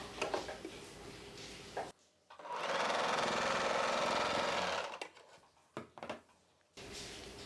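A sewing machine stitches a dart in a cross-cut blouse, running in a loud, steady whirring burst of a few seconds, with short handling clicks and rustles before and after it.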